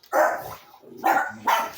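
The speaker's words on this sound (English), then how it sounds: "And my dogs are growling." Dogs barking and growling nearby in three loud, short bursts separated by brief pauses, with no talking.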